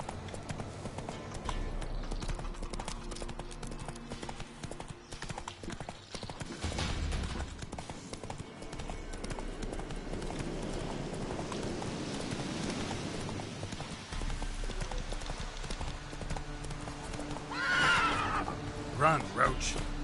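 Horse hooves clop and gallop in The Witcher 3 as Roach runs, a rhythmic beat under rain and game ambience, with a whinny near the end and a voice speaking.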